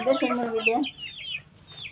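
Desi chickens clucking close by on a poultry farm, a busy run of bright, stacked clucks in the first second, then thinner chirps and calls trailing off.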